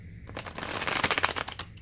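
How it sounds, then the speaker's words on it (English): A deck of tarot cards being shuffled by hand, a dense run of crisp riffling flutters lasting under two seconds, close and clear with no talk. "let me do one more shuffle"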